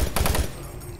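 Rapid gunfire from the Doom 3 Resurrection of Evil video game: a short burst of four or five loud, punchy shots in quick succession, then a fading low rumble.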